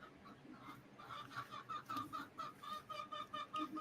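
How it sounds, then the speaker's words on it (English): Hens cluck and murmur around a backyard chicken coop on an urban homestead, a steady run of short, close calls in an uneven rhythm with soft outdoor background noise and no speech. "This is the outside of it, chicken coop."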